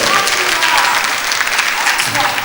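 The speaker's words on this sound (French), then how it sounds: "Et on applaudit." A church congregation claps during a French-language worship service, with brisk, dense applause throughout, loud and close, mixed with some voices.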